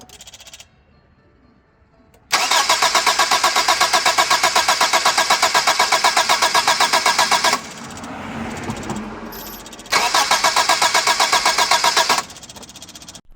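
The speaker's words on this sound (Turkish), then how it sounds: "Şimdi marşımızı basalım." Starter cranking a 1.3 GLX Suzuki Swift engine that fails to catch: two long bursts of loud, fast rhythmic churning, close, separated by a pause, with no engine firing.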